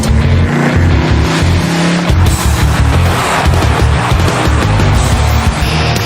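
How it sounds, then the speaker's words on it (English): Pro 4x4 race trucks roar around a dirt track with loud throbbing engines, revving and surging together in a full-contact pack, close and continuous for several seconds without speech. "tight turns, and big air make this type of pro 4x4 truck racing a full contact sport"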